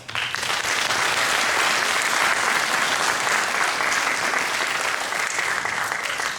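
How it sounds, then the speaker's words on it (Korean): A large church congregation claps loudly and steadily for several seconds, a dense, sustained wash of applause filling an indoor hall. "우리 교회 성도님들께 진심으로 격려의 박수를 한번 보냅니다"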